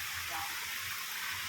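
Strong water gushes steadily from a mountain spring, a broad, continuous hiss of flow close by with no clear breaks, filling the whole short stretch.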